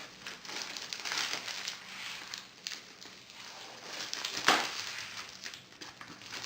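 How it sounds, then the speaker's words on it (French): An AliExpress parcel gets opened up close at a quiet table, with soft crinkling and rustling of packaging, scattered taps and handling noises, and one sharper tearing burst partway through. "J'ai un nouveau colis que je vais ouvrir."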